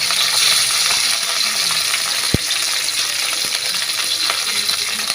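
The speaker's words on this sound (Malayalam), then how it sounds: "ഗ്രാമ്പൂ, അതുപോലെ 2 ഏലക്കായ എല്ലാം കൂടെ നമുക്കൊന്ന് എണ്ണയിൽ മൂപ്പിച്ചെടുക്കാം" Cloves and cardamom sizzle in hot oil in a pan, a steady bright crackle with a single sharp clink partway through, close and without talk.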